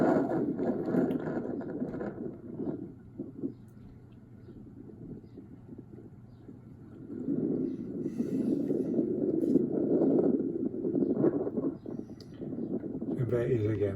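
Wind gusts across a harbour in Torquay, a low broad rumble buffeting the microphone and swelling in the middle and near the end, heard under a person talking.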